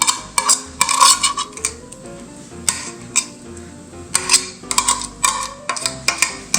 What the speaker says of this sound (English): And now I'm just going to dump all this onto the cake.